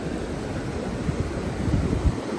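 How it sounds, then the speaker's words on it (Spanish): High ocean waves rolling onto a beach, a dense, steady roar of surf with wind buffeting the microphone and occasional heavier crashes. "aquí es que las olas sí están bien altas aquí"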